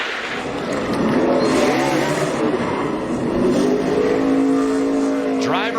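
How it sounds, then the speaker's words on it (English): A NASCAR Xfinity Series race car spinning a celebratory donut at Pocono after the race, its engine roaring loud and sustained with revving and tire noise, while a commentator talks over it. "That's a good donut right there."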